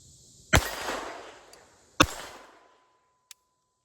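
A Beretta 21 Bobcat pocket pistol fires two sharp, loud shots about one and a half seconds apart, each trailing off in a short echo, followed by a faint metallic click.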